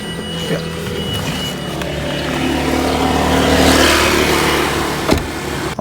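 A 2022 Mitsubishi Xpander Sport CVT engine is revved hard and held near its limit, a loud, steady roaring drone that swells toward the middle and then eases slightly, with no voices.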